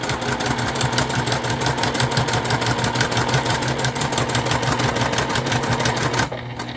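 A sewing machine runs a continuous rapid stitching rhythm, close and steady, while sewing down the sides of a convertible bag, then stops abruptly near the end.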